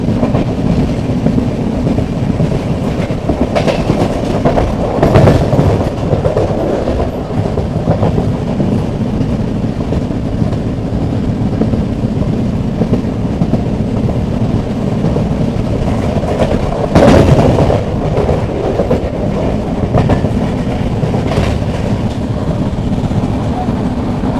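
A passenger train runs on rails between Angadippuram and Ernakulam via Shoranur in Kerala, a loud continuous rumble with rhythmic clatter heard from on board, no voices.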